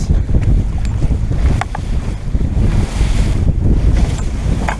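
A small motorboat turns onto a following wave in choppy sea, with steady wind buffeting the microphone and waves washing against the hull.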